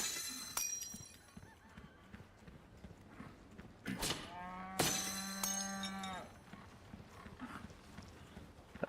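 A loud cow moos once with a long drawn-out low call in the video game Resident Evil 4 Remake, preceded by sharp hoof-like clops and scattered game clatter, with no talk over it.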